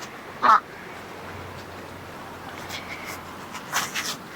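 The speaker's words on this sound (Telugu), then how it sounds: "ఇక్కడ బాతులు పెంచుతాం" A single loud duck quack, then quieter scattered quacks later against a calm outdoor background.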